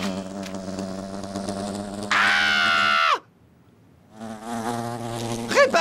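A fly buzzes loudly in a French animated cartoon, a droning whine that swells, cuts off into silence, then returns with a wavering pitch.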